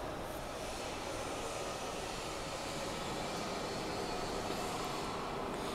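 A perforated gutter guard cover forming machine, chain and motor driven with adjustable rollers, runs with a steady, continuous mechanical roar and hum that stays level throughout, with no voices.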